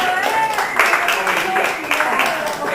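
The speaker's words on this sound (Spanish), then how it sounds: "Un aplauso para ellos." A church congregation applauds throughout, a steady wash of many hands clapping at moderate volume, with a voice briefly audible over it.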